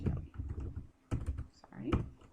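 Computer keyboard typing while setting up a Google Sites account, a few short bursts of close, crisp key clicks mixed in with speech.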